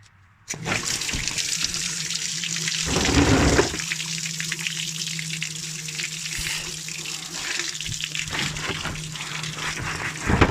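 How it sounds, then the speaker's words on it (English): Coolant gushes and splashes steadily out of a 1997 Jeep Grand Cherokee Laredo 2.5 TD during a flush, a continuous close watery rush that surges louder briefly partway through. "so I'll try and capture the moment where it comes gushing out"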